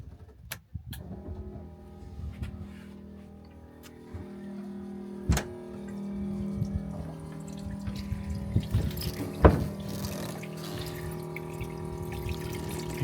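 A boat's washdown pump feeding water into a homemade livewell, with running and splashing water under a low pump hum, plus scattered clicks and knocks from the fittings nearby.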